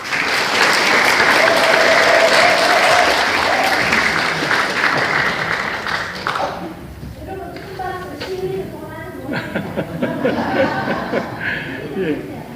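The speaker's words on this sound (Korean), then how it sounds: "큰 박수 부탁드립니다." Audience applause at a citizens' forum in Busan, a loud sustained burst of clapping that fades after about six seconds, followed by someone speaking over light room noise and a few scattered claps.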